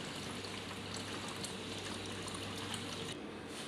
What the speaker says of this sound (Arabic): هنا راح احط له بيه مي، راح اترسه مي